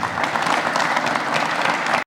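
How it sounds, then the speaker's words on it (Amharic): An audience at an award ceremony applauds the departing marching band, a dense, steady burst of clapping heard close for about two seconds before it cuts off abruptly. "ሞቅ ባለ ጭብጨባ"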